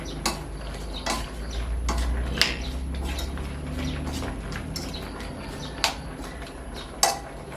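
Seafood egg curry stirred in a pot with a utensil, giving scattered clinks and scrapes against the metal over a low steady background hum, with a few sharper knocks.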